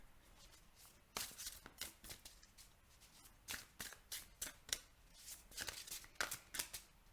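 Tarot cards being shuffled by hand close up, a run of quick, crisp riffling bursts with short pauses between them, no voices.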